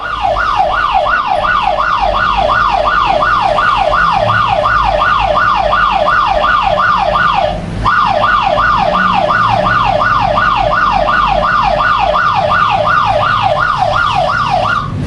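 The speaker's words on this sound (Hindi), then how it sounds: "ये सायरन अपने आप ही ऑफ हो गया।" A loud electronic phone anti-theft alarm siren wails in rapid, repeating rising sweeps, steady and continuous, with a brief dropout midway.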